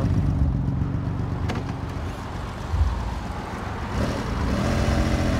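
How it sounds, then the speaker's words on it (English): A 1981 Honda CBX1100 six-cylinder motorcycle being ridden, its exhaust a steady low drone that swells as the throttle opens, heard close with passing road rumble. "I was getting on it a little bit so you could hear the exhaust"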